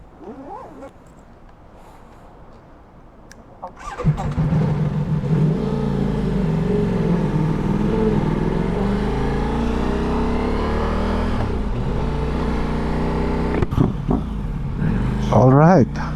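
A motorcycle engine rumbles low and steady at close range, with high-pitched dog whines heard briefly before it starts and again near the end.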